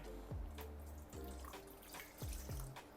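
Water for pizza dough pours in several short bursts, each starting with a falling splash and settling into a steady liquid run, close by with no talking.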